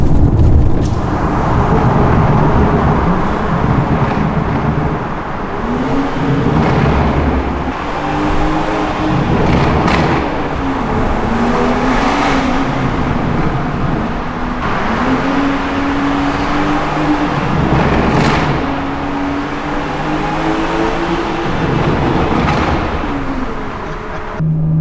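Stage 2+ BMW 340i driving through a tunnel, its engine droning loud and close with rising and falling revs that echo off the walls, no talking.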